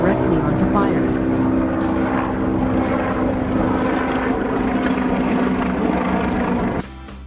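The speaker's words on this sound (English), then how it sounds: "A helicopter equipped with water tanks or buckets to help extinguish wildfires." A firefighting helicopter fitted with water tanks or buckets makes a loud, steady rotor and engine drone close by, then cuts off abruptly near the end.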